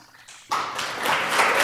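Audience at a 2023 graduate studies matriculation ceremony bursting into clapping for a graduate, a sudden onset after a quiet moment that continues as a dense, steady round of applause.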